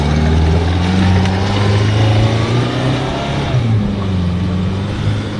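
A Daewoo Matiz on rough off-road ground drones with a steady, strained engine note, loud and close, the pitch rising and wavering slightly as it pushes through.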